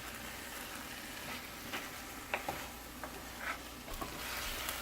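Stuffed baby eggplants fry in masala and oil with a soft, constant sizzle and bubbling, broken by occasional light ticks and pops from the pan.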